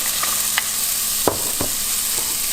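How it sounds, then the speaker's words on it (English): Vegetables sauté for fried rice in a hot pan, a steady sizzle broken by a few sharp scrapes and clacks of a utensil stirring the food. "we're gonna start keep sauteing the vegetables there"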